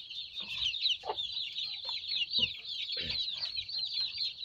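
Chickens cluck steadily nearby while drinking water under newly switched-on lights, with low soft clucks and occasional louder calls over a constant high chirping of chicks.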